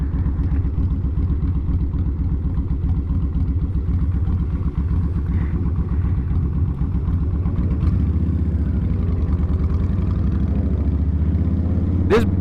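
Suzuki GSX-R1000 sport motorcycle with a stretched swingarm running steadily, a continuous loud engine drone with low rumbling harmonics close to the microphone, rising in pitch toward the end, with no talk.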